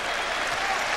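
Basketball arena crowd at a 1999 Magic vs 76ers playoff game cheering and applauding a player's entry, a dense wash of clapping and roaring voices, loud and continuous.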